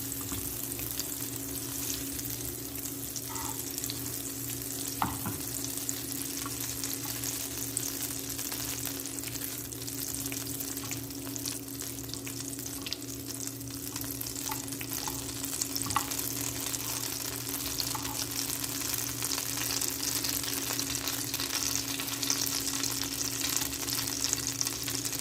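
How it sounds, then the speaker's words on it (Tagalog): Sisig ingredients sautéing in a hot pan make a continuous sizzle and frying hiss, with occasional stirring clinks and scrapes over a faint steady hum, no voices. "Gigisahin natin lahat ng ating mga sangkap."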